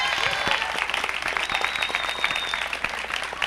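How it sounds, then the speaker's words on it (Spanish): Audience at a university event applauding a professor; a steady, moderately loud patter of many hands clapping that fills the whole stretch, with faint indistinct voices underneath. "Un aplauso también para el profesor Reinaldo Santa Cruz."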